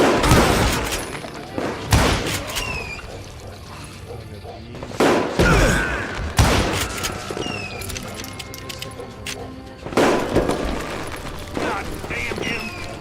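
Gunfire in the Western shooter Call of Juarez Gunslinger, several loud sharp shot bursts spread across the stretch, some closely grouped, with mechanical clatter and voices talking in between.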